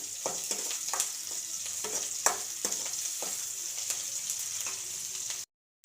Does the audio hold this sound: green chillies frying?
yes